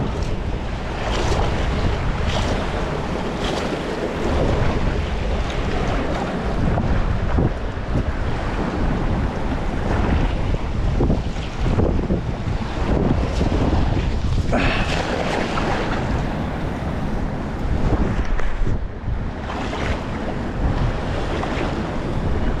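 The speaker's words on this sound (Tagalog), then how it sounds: "Mas malakas palang hangin dito." Strong wind buffets the microphone with a constant roar, mixed with surf washing nearby; no voices.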